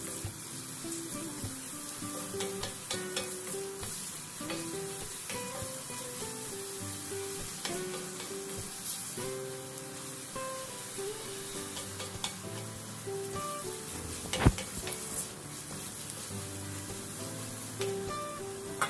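Marinated chicken fries and gets stirred in a pot for sopas, a steady sizzle with scraping spoon clatter throughout, close and continuous, no voices.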